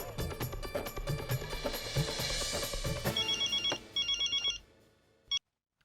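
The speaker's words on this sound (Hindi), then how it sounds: "तारक तो फिलहाल ऑफिस में होंगे, पर मैं अभी उन्हें फोन करके बुला लेती हूँ" A telephone rings in a domestic comedy scene, a loud electronic ringtone sounding in repeated bursts over background music before cutting off abruptly, with no speech.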